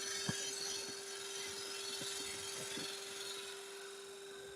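A woodturning gouge cuts a textured wooden bowl spinning on a lathe, with a steady scraping hiss over the constant motor hum and several light knocks along the cut.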